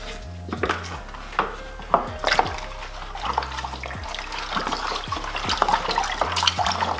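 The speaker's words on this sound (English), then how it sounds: "To that now we're going to add our wort concentrate." Wort concentrate from a bag is poured into boiling water for a home brew Australian gold lager kit, with liquid splashing and trickling alongside a few clanks of the pot, close up and with no talking.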